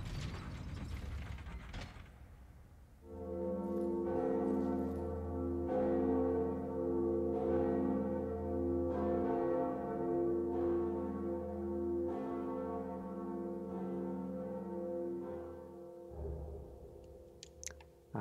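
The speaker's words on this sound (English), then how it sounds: "Let's go ahead and ring the bell ourselves and see what we can do." The bell in Dark Souls rings out after an opening mechanical clatter, its deep, sustained toll repeating at a slow steady pace with long resonant overtones, then cuts off near the end.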